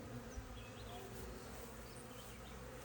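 Honey bees buzz steadily during a hive inspection, a soft, continuous swarm-like hum with no voices, faint and close throughout.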